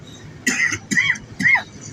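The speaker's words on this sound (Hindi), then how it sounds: "सॉरी खांसी हुई" Three short coughs in a row, close and fairly loud, spaced about half a second apart, standing out over a faint background hum.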